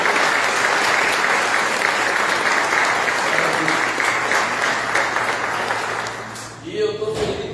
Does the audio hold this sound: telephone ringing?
no